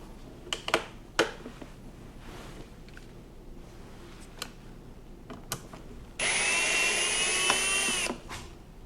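A power driver whirs in one close, steady burst of about two seconds, backing an 8 millimeter bolt out of an electric Snow Joe snowblower, with light clicks and handling knocks around it.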